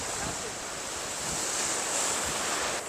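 Sea waves washing onto the coast near Mubarak Village, a continuous roaring surf with wind rumbling across the microphone, steady and fairly loud with no talk.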